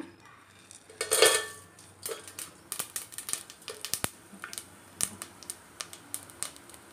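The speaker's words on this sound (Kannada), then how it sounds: "ಇವಾಗ ನಾನು ಮಸಾಲೆ ಎಲ್ಲ ಆವಾಗಲೇ ತೊಗೊಂಡಿದ್ನಲ್ಲ, ಎಲ್ಲ ಒಟ್ಟಿಗೆ ಹಾಕೋತೀನಿ." Spices tipped into hot oil in a pot for chicken biryani, with a brief burst of sizzle followed by a string of light clinks and taps of a spoon on metal, close and fairly quiet, no voices.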